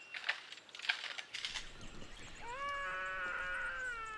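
A male songbird, a virtuoso mimic, imitates a crying human baby with rising, wavering harmonic wails after a few scattered clicks and rustles, fairly close and alone.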